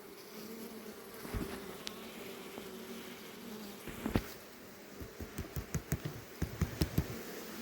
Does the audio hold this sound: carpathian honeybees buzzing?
yes